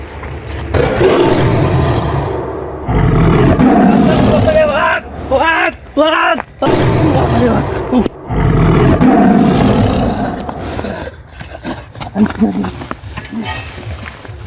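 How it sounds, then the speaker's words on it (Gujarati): A tiger roars loudly and close by in a village setting, with repeated drawn-out roars and people talking around them. "વાઘ આવ્યો છે"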